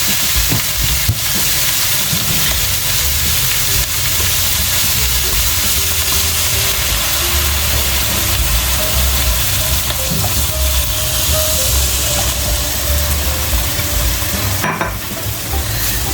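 Fish stock for a chickpea, salt cod and prawn stew is poured cold into a very hot frying pan, setting off a loud, steady sizzle and hiss that lasts throughout.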